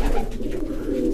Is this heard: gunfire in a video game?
no